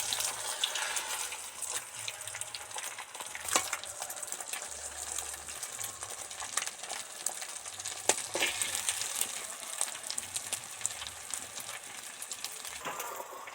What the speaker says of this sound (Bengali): অল্প অল্প আঁচ মানে কমিয়ে আস্তে আস্তে এটা ভাজতে থাকবো